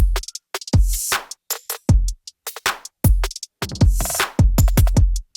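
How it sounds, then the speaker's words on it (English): An Apple Loops drum fill gives a quick run of punchy tom and snare hits with booming low thumps and crisp high attacks, close and dry, with no talking. "We have another drum fill."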